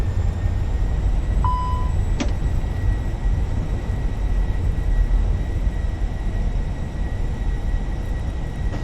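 Fenix A320 airliner in the MSFS flight simulator on landing with thrust reversers deployed, a steady loud broadband engine roar filling the whole stretch with a brief tonal chime and click partway through.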